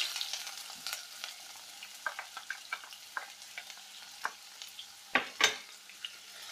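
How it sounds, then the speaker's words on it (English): Chopped onion frying in hot oil in a pan, giving a soft steady sizzle broken by a series of sharp crackles and stirring scrapes, with a couple of louder bursts near the end, close up and with no voices. "Here I have already heated the oil in a pan. Now I am adding chopped onion into it."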